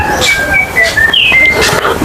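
Birds call outdoors near a wood-fired cooking spot, with several clear whistled chirps and sliding notes repeating over about two seconds, close and fairly loud.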